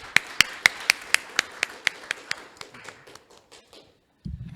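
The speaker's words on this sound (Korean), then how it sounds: "멋진 강연을 해주신 김승주 교수님께 다시 한번 큰 박수 부탁드립니다." Clapping after a lecture at a forum on AI and security: a run of sharp, evenly spaced claps that gradually slow and fade, followed by a brief low thump.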